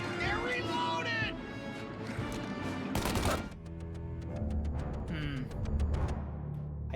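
Gunfire rings out in the video game Mafia, with sharp shots and a loud burst partway through, layered over game voices and talk that continue throughout.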